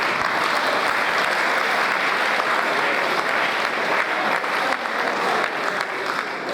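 Sustained applause from an audience at an annual public lecture, greeting the guest lecturer as he takes his seat, a dense steady wash of many hands clapping at close range for the whole stretch.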